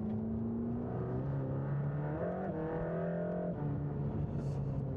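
A car in sport plus mode with the stiffest suspension setting drives over a badly deformed road, its engine droning steadily with shifting pitch and continuous road rumble throughout.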